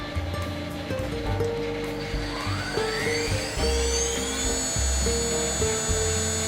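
A CNC router spindle driven by a VFD spins up toward about 10,000 RPM in a workshop, a whine rising steadily in pitch over a continuous mechanical hum, with no talk.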